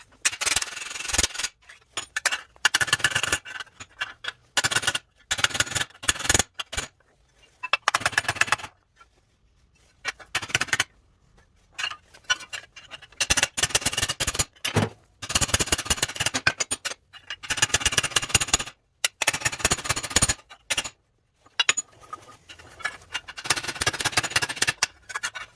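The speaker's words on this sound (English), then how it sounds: "just start beating on it some more with a hammer" A hammer beats on a rusty steel car floor pan in bursts of rapid metallic strikes, separated by brief pauses, close and fairly loud, with no talking.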